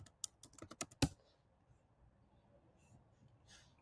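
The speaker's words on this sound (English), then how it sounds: "Then you type in sunglasses." A quick run of keystrokes on a computer keyboard, about a second of crisp clicks ending in a firmer tap, then near silence.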